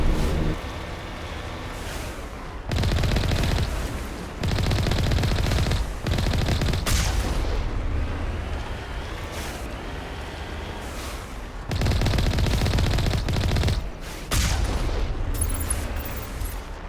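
A small mech in Mass Effect fires its weapon in loud, sustained bursts of gunfire separated by short pauses, with heavy booming impacts and no talking.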